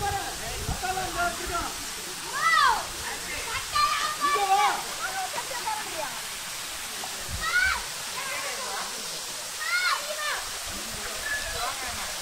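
Waterfall at Kolli Hills flowing at a moderate rate, a steady broadband rush of water with someone talking over it throughout and bird-like chirps dotting the background.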